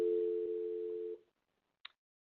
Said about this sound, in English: This is going to give you a dial tone.